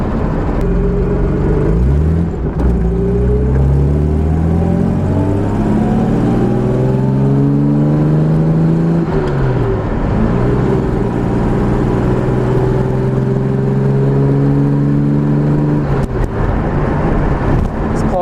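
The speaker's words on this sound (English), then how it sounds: "giving the sound of the engine a bit of a go for it" A restored Jaguar E-type engine revving on its first drive after a 41-year restoration, loud and close, with rising and falling gear sweeps as the car accelerates through shifts.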